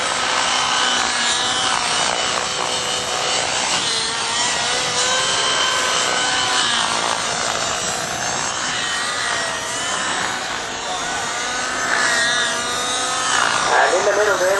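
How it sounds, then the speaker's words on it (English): An electric model helicopter flies past at an outdoor model show, its steady whine rising and falling in pitch as it passes. People talk underneath. "And in the middle there, we've got this electric helicopter. Just watch that one going by there."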